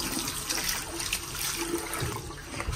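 Water splashes and runs as it is poured over a spill of white paint on wood, a continuous rushing, gurgling wash at moderate loudness with no voices.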